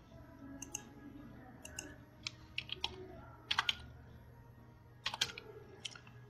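Keys tapped on a computer keyboard to enter a one-time password, short clustered bursts of clicks in a few small groups, close but quiet over a low steady room hum.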